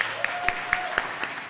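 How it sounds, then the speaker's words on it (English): Sparse audience applause welcomes the next reader at a literary reading event, with a handful of distinct claps spaced out in an even rhythm at a moderate distance and a faint tone lingering underneath. "Give him a round of applause."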